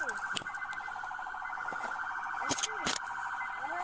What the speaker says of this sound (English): Let me turn my sirens off.